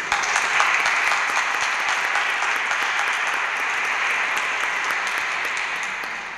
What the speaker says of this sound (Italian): E a lei che va l'applauso soprattutto